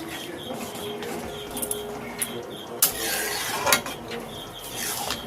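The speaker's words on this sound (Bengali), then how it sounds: "আমি আরও একবার নেড়ে দিচ্ছি আর সব কিছু মিশিয়ে নিচ্ছি" A spoon stirs papaya plastic chutney with lemon juice in a pan, giving soft continuous scraping with scattered sharp metallic clinks and knocks, close and fairly quiet.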